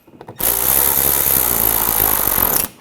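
A power tool drives screws into the front bumper of a 2007-2013 BMW X5, giving a steady, loud whir that runs about two seconds with a sharp start and stop.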